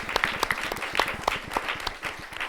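Conference audience at a Puerto Rican diaspora summit breaking into applause, a steady patter of many hands clapping at moderate distance, with individual sharp claps standing out and faint voices mixed in.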